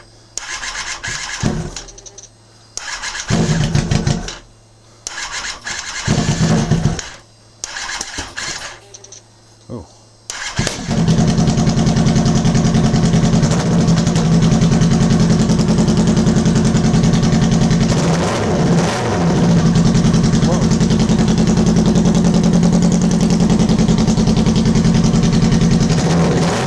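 Kawasaki motorcycle engine, just fixed after a fuel pump repair, cranks over in several short bursts, then catches and settles into a loud, steady, close idle; a brief exclamation is heard.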